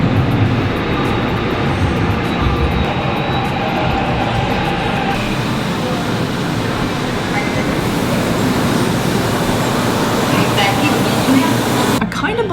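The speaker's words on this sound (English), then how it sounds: "The train is coming." Subway train arriving at a station in Korea, a loud, steady rumbling roar of wheels and motors filling the platform throughout, with a brief change in sound near the end.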